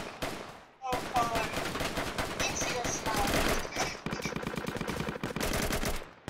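Gunfire in a video game war roleplay, with loud, sustained, rapid bursts of automatic shots that fill most of the stretch after a brief quieter opening.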